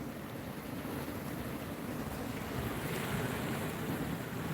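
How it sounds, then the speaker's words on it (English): Ocean waves rolling in on a beach, a continuous low surf roar with steady wind rumble, moderately distant and faint, no voices. "you get very, very good waves coming in"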